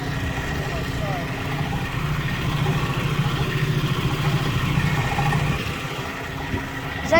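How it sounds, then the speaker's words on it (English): An air conditioner compressor outside a church runs with a low, steady rumbling drone heard from nearby, with faint clatter and some background noise layered over it. "Is that the sound of one of the air conditioners?"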